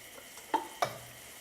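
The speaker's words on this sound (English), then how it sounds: "give this a quick stir" Broccoli cheese soup being stirred in a pot, two short distinct scraping clinks of a spoon against the pot with a quiet simmer between them and no talking.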